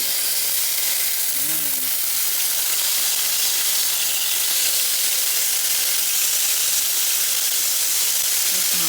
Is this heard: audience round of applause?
no